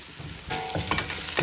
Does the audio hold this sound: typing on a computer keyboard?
no